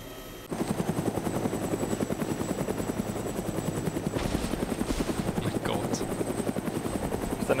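A helicopter in the video game DayZ thrums with a loud, steady rotor chop that starts abruptly and continues throughout, with faint background noise over it.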